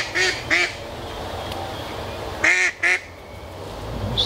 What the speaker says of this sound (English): A duck or two.